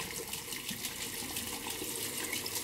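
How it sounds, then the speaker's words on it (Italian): Tap water running steadily to wet a black badger shaving brush, a soft continuous splashing stream heard up close and alone. "Andiamo con il pennello tasso nero, lo bagniamo con un po' d'acqua"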